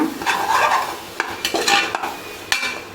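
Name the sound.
stirring biryani masala in a pot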